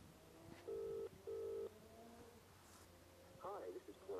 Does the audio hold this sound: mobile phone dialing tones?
yes